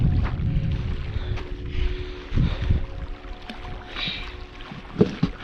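Wind gusts at Chandratal lake in Himachal's Spiti Valley buffet the microphone with a low, uneven rumble, broken by a few scattered knocks and bumps, with no voices.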